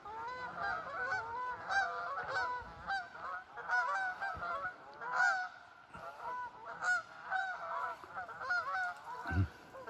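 A flock of geese honking, rapid overlapping nasal calls from many birds in steady, chattering bursts, fairly faint and distant, with a brief low thump near the end.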